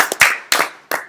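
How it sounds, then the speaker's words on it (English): A theater audience at a live podcast taping gives short clapping, a few loud, close bursts of overlapping claps that fade quickly. "Clap it up for Mike Africa."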